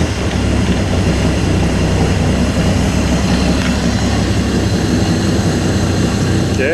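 A turbocharged Datsun 280Z engine runs continuously at close range, with a loud, steady rumble and roar through the whole stretch and no pauses.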